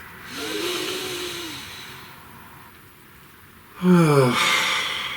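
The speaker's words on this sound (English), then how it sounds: "Please take a nice deep breath." A person takes a deep breath during a guided meditation, a long, soft airy inhale followed by a louder, breathy exhale or sigh, close and alone with no talking.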